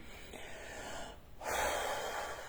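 A single audible breath drawn in close up, a short hiss of air that swells after a brief pause.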